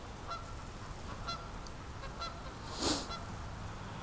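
Canada geese honking repeatedly outside near a bedroom window, with scattered soft honks at a distance and one louder, nearer honk partway through over a quiet outdoor background.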